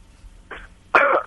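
A person coughs after a hit of smoke: a short throaty burst followed by a louder, longer harsh cough, close and alone.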